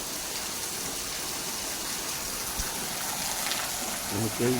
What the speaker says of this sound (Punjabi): ਅੱਜ ਵਧੀਆ ਮੀਂਹ ਪੈ ਰਿਹਾ